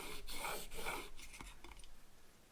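A blade is ground on a Shapton glass sharpening stone in close, quiet rasping strokes, several distinct back-and-forth rubs that fade into lighter scraping toward the end.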